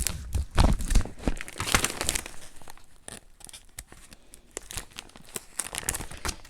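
A heavily taped plastic bag is torn and crinkled open close up, with loud, irregular bursts of ripping and rustling plastic that settle into softer crinkles.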